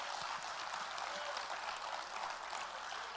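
A church congregation claps together in sustained, even applause, moderately distant and filling the room with no break.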